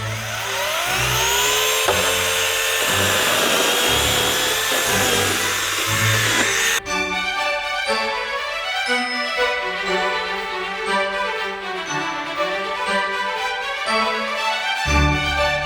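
A cordless mini chainsaw with a brushless motor whines loudly and steadily, its pitch shifting as it bites into wood, then settling into a lower, continuous cutting drone.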